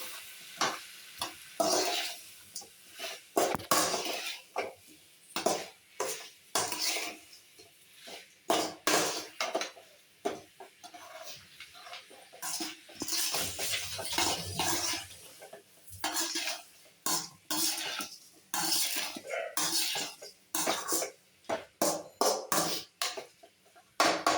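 A spoon stirs salted curry in a metal pot, making repeated scraping strokes and clinks in an uneven rhythm over a soft sizzle, close and fairly loud throughout.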